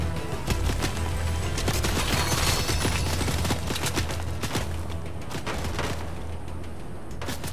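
Bursts of rapid automatic gunfire and booming shots in a shooting video game, dense and loud for most of the stretch before easing slightly toward the end, with no clear talk over it.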